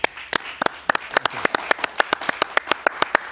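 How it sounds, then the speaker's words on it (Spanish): A small studio audience claps for Huáscar Barradas, a Venezuelan flautist arriving as an interview guest. Sharp, distinct handclaps come in a quick, fairly regular rhythm, sounding close and sparse rather than a dense roar. "un aplauso para él, por favor"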